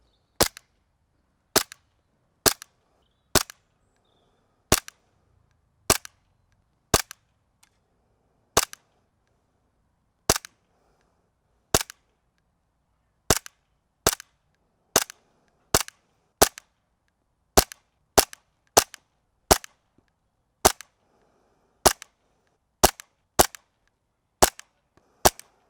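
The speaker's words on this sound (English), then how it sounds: "that's 25 rounds we've just put into that lipo battery" Airsoft gun fires 25 single shots into a lipo battery, each a sharp isolated crack with near silence between, spaced irregularly about a second apart.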